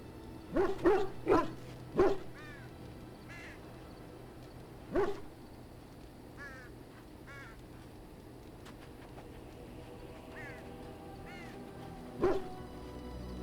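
A dog barks in the party camp in the Dragon Age: Origins video game, a quick cluster of loud barks up front, then scattered single barks over a low, steady background ambience.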